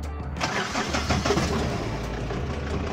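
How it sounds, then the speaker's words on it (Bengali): A second-hand Mahindra Bolero pickup with a 1.3 diesel engine cranks briefly and catches, then settles into a loud, steady idle close by. "এবার আমরা গাড়িটা স্টার্ট করে দেখাচ্ছি।"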